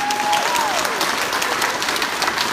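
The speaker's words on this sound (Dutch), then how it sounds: "Dus applaus voor al die mensen." Audience applause at a livestreamed opening event, steady dense clapping from a crowd with a brief sliding whistle-like tone early on, continuous throughout.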